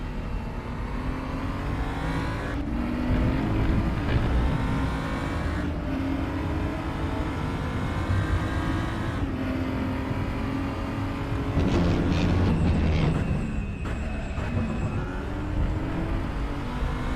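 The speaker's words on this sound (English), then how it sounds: "And we are now in the car of Ben Davis." A race car engine drones steadily in an esports sim racing game lapping Sepang South, its pitch climbing and dropping through several gear shifts, loud and continuous with no talk over it.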